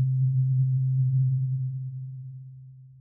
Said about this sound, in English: All we're going to get is a sine wave from the carrier.